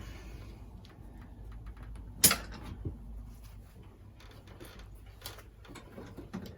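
Long bolt being pulled from the wheel of a Yamaha MX100 motorcycle: quiet metallic scraping and mechanical rattling, with one sharp clank partway through, heard up close with no talk.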